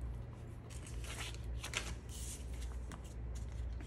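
Soft, steady paper rustling and light crinkling as small number stickers are peeled and pressed into a Hobonichi Weeks planner, with faint handling taps throughout and no talking.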